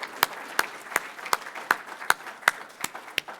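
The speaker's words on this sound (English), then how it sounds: "A round of applause for all of you." A conference audience at a closing session claps in a sparse, fairly regular pattern, individual sharp claps spaced about a third of a second apart, moderately loud with little else around.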